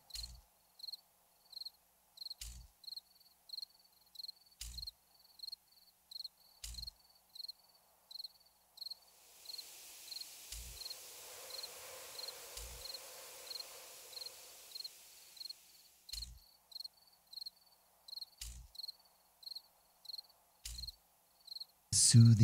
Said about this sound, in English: Soothing sound of the crickets.